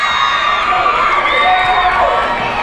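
A CedarBridge crowd cheers loudly after a penalty goal in a U16 knockout football match, sustained shouting and whooping with high children's voices, close and continuous throughout.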